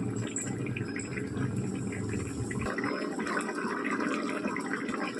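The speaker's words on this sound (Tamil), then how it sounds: "திட்டமாக இப்போ கொஞ்சம் தண்ணியும் சேர்த்துக்குவோம்" Water pours steadily into a pot of coconut kurma, a continuous splashing trickle with a faint background hum, no voices.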